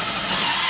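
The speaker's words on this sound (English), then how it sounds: "drive screws to hold it in place" A power screwdriver drives screws through drywall corner bead into a wall corner, a brief loud continuous whirring burst close to the microphone with no talking.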